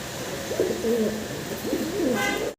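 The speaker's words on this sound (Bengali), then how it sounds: "দর্শক ভিডিও স্ক্রিনে আপনারা এক পেয়ার শাটিন কবুতর দেখতে পারতেছেন" A pair of satin pigeons gives soft, rolling coos in two clear phrases. The birds are close, with a steady background hiss behind them and no talk.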